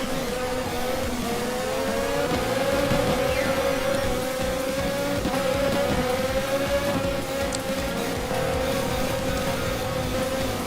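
Race car engines from a Formula Holo racing video game drone loudly and steadily, several cars running close together in single file with rising and falling engine tones throughout.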